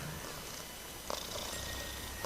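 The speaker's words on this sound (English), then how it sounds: "To this day, he is perpetually purring." A contented male cat purrs steadily and quietly up close, a soft continuous rumble with a brief louder shift midway and no talking.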